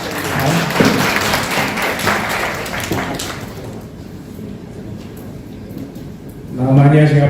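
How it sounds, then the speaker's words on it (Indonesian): Audience applause at a startup academy event in a university hall, clapping rising and fading over several seconds before a voice speaks at the end. "Silakan kita tepuk tangan buat"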